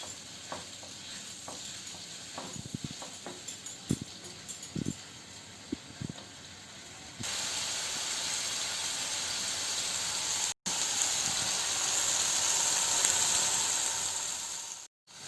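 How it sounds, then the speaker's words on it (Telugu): Chicken frying in a pan for butter chicken: quiet crackles and taps at first, then a sustained loud sizzling hiss close by that briefly cuts out and resumes before stopping. "చికెన్ ఫ్రై అవుతుందండి కదండి."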